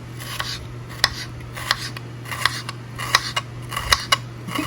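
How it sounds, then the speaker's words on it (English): A knife slicing a shallot into very thin pieces on a cutting board, giving a run of sharp, evenly spaced taps close up over a steady low hum. "I'm gonna cut this very, very thin"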